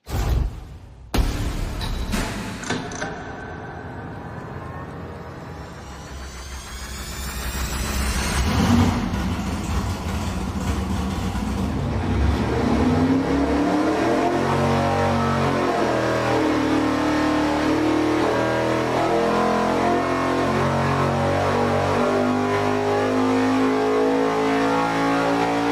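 A race engine runs on a dynamometer during a cam timing test: a short burst, a swelling rev up, then a long, loud, sustained roar at high load until the end, with no talking.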